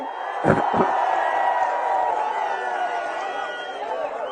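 A large crowd at a Telugu political rally with Chandrababu shouts and cheers in a loud, sustained roar, with a couple of sharp whooping bursts near the start before the noise settles into a continuous din.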